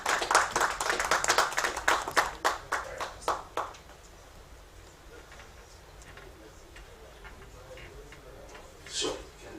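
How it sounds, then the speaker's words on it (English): An audience claps in a burst that quickly thins to a few scattered claps and then fades, followed by faint room noise and a brief murmur near the end. "Can you please give me a round of applause?"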